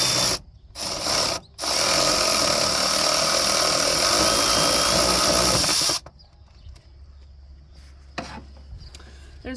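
Ratchet with a long extension on a 10 mm screw of the EGR valve of a 2008 Dodge Durango makes a dense, loud rattling that runs for several seconds, then stops, leaving faint clicks and handling noise.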